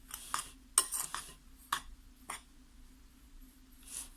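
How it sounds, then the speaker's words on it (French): A metal spoon stirs dry crêpe ingredients, flour and baking powder, in a bowl, giving a few sparse, close clinks and scrapes with quiet gaps between them and no voices. "On mélange les ingrédients secs. Comme ça avec la cuillère, très bien."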